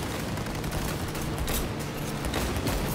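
Gunfire in Cyberpunk 2077, a dense fusillade of overlapping rapid shots and impacts, loud and continuous across the whole stretch without speech on top.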